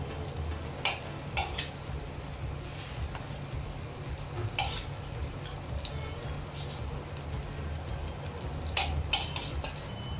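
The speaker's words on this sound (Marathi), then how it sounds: "छान असे आता फ्राय करण्यासाठी ठेवलेले आहेत" Chicken frying in butter over a slow gas flame, with a steady soft sizzle and occasional scrapes and clinks of a utensil against the pan, close by with no talking.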